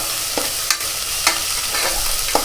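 Ginger garlic paste sautés in a pan for chicken kulambu, a constant loud sizzle broken by four or five quick spatula scrapes spaced about half a second apart.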